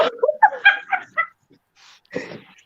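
A big dog barks indoors in a quick run of short, close barks and yips, then goes quiet before one more bark.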